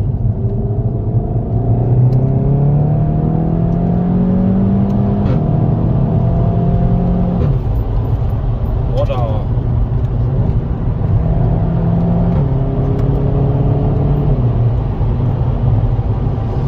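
A Cupra car with a turbocharged engine accelerates hard around a corner, heard from inside the cabin as a loud, continuous engine rumble that rises in pitch through the gears. Brief shift dips break it up.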